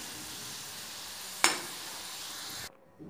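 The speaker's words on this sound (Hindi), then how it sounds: "सो गुलाब जामुन फ्राई हो गए हैं" Bread gulab jamun fry in a pan of oil with a steady, faint sizzle, broken by a single sharp crackle partway through, before the frying sound cuts off abruptly near the end.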